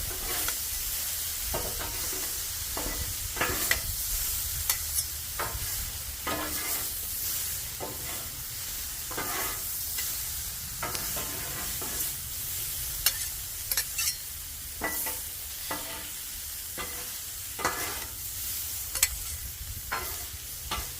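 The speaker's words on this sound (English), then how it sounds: "I'm going to move these vegetables over, mix those in" Vegetables being pushed and mixed on a hot cooking surface, a continuous sizzle broken by repeated sharp scraping and clacking strokes of a spatula, close and fairly quiet, with no talking.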